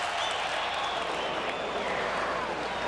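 A baseball crowd at Wrigley Field in Chicago during a Cubs–Braves playoff game roars steadily, a broad sustained cheer with applause filling the stadium at constant loudness.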